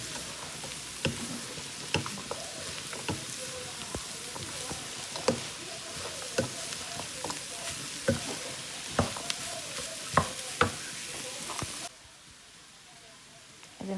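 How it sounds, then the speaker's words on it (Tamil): Fried chicken is tossed into chicken fried rice in a hot pan, a low sizzle punctuated by frequent rhythmic spatula clacks and scrapes for most of the stretch before it drops to near quiet near the end. "சேர்த்து நல்லா கிளறி விடுவோம்"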